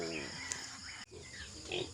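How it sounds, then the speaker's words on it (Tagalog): Pigs on a farm are fed sweet potato leaves, with close grunts, squeals and oinks over a busy background, a sharp click around midway, and rising squeals near the end. "atin pong pakainin ang ating mga alagang baboy ng talbos ng kamote"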